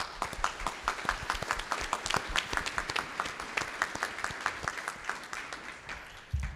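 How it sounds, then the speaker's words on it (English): Applause from a conference audience at a kidney cancer research summit, a fairly quiet room of clapping with distinct individual claps that stays steady, then thins and fades toward the end. "Please give them a round of applause."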